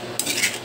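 A spoon stirs pork menudo in a pan, one short metallic scrape over a soft sizzle, close and brief, with no talking.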